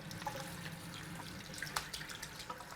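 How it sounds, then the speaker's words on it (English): Water from a running tap splashes and trickles over a beef joint being rinsed, a quiet, close, steady wash with small drips and spatters. "and we're going to give it a rinsing."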